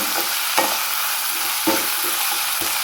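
Curry leaves hit hot oil in a pan for a pork gravy, giving a bright, steady close sizzle with a few soft crackles and stirring taps, no voices.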